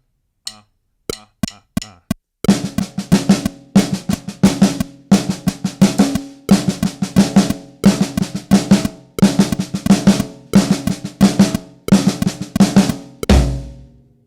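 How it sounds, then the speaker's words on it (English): A drum kit plays a repeated six-note paradiddle-based group with accented strokes, starting with a few sparse taps before settling into steady, loud, close-miked bursts of drumming that continue without any talk. "it's a paradiddle plus 2 extra notes, a 6-note group, an accent on the first note of the paradiddle"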